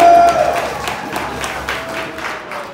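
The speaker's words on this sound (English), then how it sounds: "Give her a round of applause." Applause from a gathering at a children's museum greeting a visiting actress, a few distinct claps standing out over a lighter crowd patter, moderately loud and fading over a few seconds.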